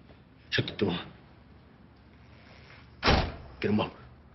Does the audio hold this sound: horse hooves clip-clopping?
no